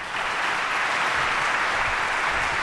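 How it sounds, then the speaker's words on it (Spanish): A studio audience breaks into steady, dense applause for a departing guest on a Spanish talk program, the clapping continuous and evenly loud from start to finish with no voices over it. "Un aplauso."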